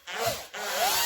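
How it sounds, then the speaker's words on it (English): A hand drill bores into wood while building a bodger's shave horse, giving two close, rasping bursts of cutting with a short pause between them. "I'm going to drill them out"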